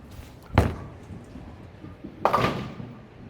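A bowling ball thrown at the pins for a spare, with a solid crashing impact near half a second and a second louder clatter of pins about two seconds later, heard alone over quiet room tone.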